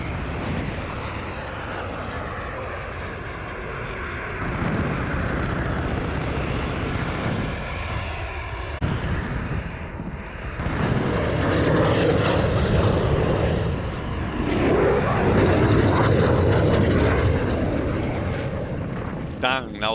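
Loud, deafening aircraft and vehicle engine roar from a propeller plane in the Modern Warfare beta shooter game, a broad sustained rumble that swells louder in the second half, with a voice talking underneath.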